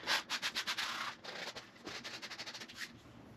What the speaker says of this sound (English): it's time for me to use one of my finer grit sandpapers on this area here